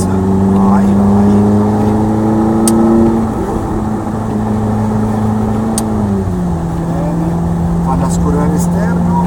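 A Ferrari 430 engine pulls hard on a wet Mugello circuit as heard from inside the car. The loud, close engine tone climbs through the gears with shift drops, while a voice talks over it.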